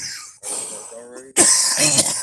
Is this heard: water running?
no